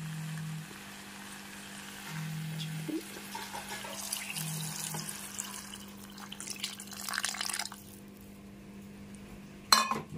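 Tamarind juice pours into a pan of okra and egg curry on a kitchen stove, a soft splashing trickle in the middle of the stretch over a low steady hum, ending with a sharp clink of utensils.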